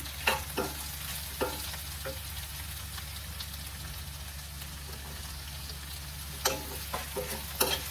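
Tomatoes sautéing in a pan for creamy paneer, a steady soft sizzle with a low hum underneath and a few sharp scraping stirs at the start and end, no voices.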